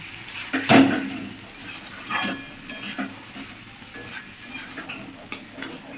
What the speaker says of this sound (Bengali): চালের গুঁড়ো দিয়ে নাড়াচাড়া করে দিই